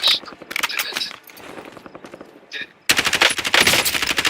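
Video game gunfire, automatic bursts that start sparse and scattered, then give way to a loud, sustained rapid machine-gun rattle in the second half, with no clear speech.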